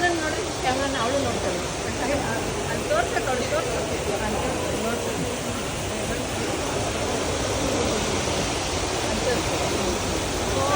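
Water flows steadily at a temple, making a continuous rushing wash that fills the whole stretch, with a crowd's murmuring chatter mixed underneath.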